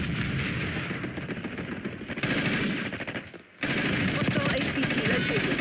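Rapid automatic gunfire from a Call of Duty: Black Ops 6 multiplayer match, dense bursts rattling continuously with a brief lull midway before the firing resumes loud and close.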